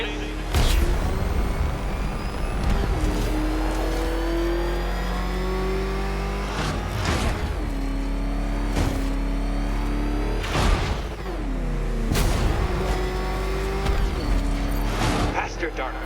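The Batmobile's engine in Batman: Arkham Knight roars and revs through repeated gear changes, loud and close, with booming hits and a voice talking over it.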